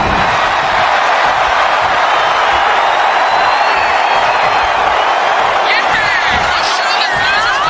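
Arena crowd in the WWE 2K25 wrestling game during a SmackDown tag match: a dense, loud roar of cheering and whooping holds steady throughout, with a commentator talking over it.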